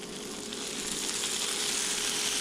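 Oil sizzling steadily in a hot pan while breakfast cooks, a continuous bright hiss at even loudness throughout, close and alone.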